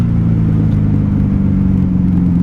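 A 1994 Honda Magna 750 VF750C motorcycle engine idles loudly and close by, a steady low rumbling drone with no talking.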